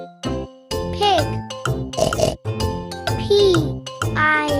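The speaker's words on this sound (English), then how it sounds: "pig." Animated pig oinks repeatedly, close and loud, from a farm-animals learning song, alternating with a voice naming and spelling animals over jingly music.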